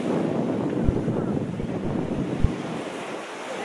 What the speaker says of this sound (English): Those waves are crazy.